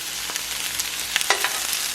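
Chopped onion and peppers sizzle in a hot skillet over a medium flame, a bright steady crackling hiss with a few sharper pops and stirring scrapes.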